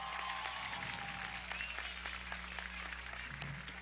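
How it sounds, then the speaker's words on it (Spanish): Crowd applause at a PSUV swearing-in rally in Monagas state, a steady wash of many hands clapping that stays dense and even throughout, with faint voices mixed in. "Un aplauso para ellas"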